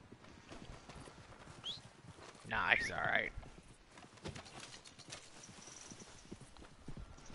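Horse hooves clip-clop steadily in the video game Horse Simulator 2019, with a brief whinny near the middle, while a voice talks over the footfalls.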